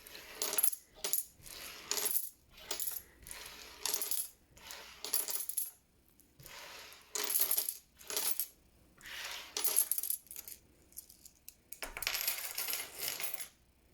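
Loose coins being counted by hand and dropped into a pile, a quiet series of small metallic clinks and jingles coming in short bursts with brief pauses between handfuls.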